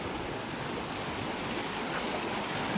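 The flooded Barak River in Senapati rushes past loud and close, a dense, continuous roar of turbulent water with no break.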